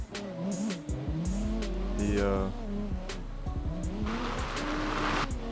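Tires squeal as a car drifts in the CarX Drift Racing Online video game, a loud sustained screech with engine roar rising and falling over several seconds, with no talking heard.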